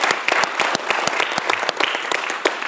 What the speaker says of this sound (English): Je crois qu'on peut vous applaudir aussi.